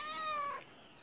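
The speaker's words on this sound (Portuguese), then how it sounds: "mostrando aqui no canal Chakra Justo para você ver esse gatinho que apareceu aqui" A small black and white kitten gives a single short, clear meow, close and fairly loud, then quiet.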